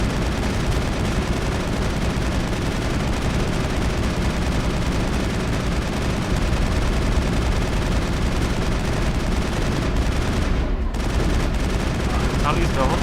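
Sustained gunfire in the video game Mass Effect during a battle against geth, a continuous loud barrage of rapid shots and booms lasting many seconds, with a brief dip near the end before the firing resumes.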